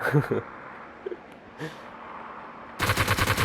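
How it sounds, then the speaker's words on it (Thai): Rapid bursts of gunfire in PUBG Mobile: a short volley at the start, scattered quieter shots, then a louder rapid burst at the end. "ทำไมปืนลั่นวะ"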